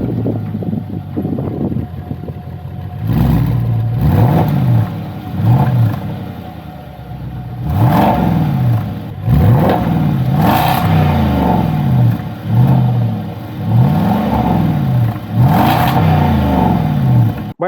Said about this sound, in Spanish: las 4 salidas de escape que suenan sencillamente espectacular